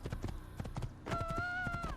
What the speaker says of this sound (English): Go into a gallop.